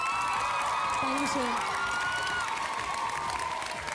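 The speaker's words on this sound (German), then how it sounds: "Auf jeden Fall einen großen Applaus noch" An audience at a children's singing contest claps and cheers loudly, a sustained roar of applause with whoops, while a voice briefly speaks over it and a high tone rings through the noise.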